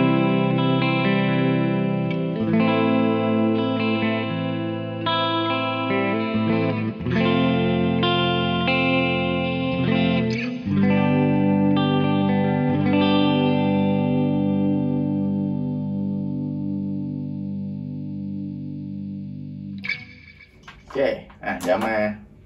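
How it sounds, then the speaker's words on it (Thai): A clean-tone Epiphone Les Paul electric guitar rings out and sustains, chords strummed several times with a few single-note picks, ending with brief muted scratches. "อ่ะเสียงของ Les Paul นะครับเสียงคลีน"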